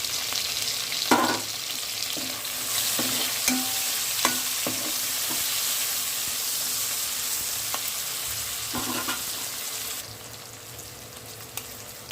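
Tomatoes and capsicum fry in a pan for prawn biryani, giving a continuous sizzle with periodic scraping stirs of a spoon, which quiets to a softer hiss in the last couple of seconds, with no speech.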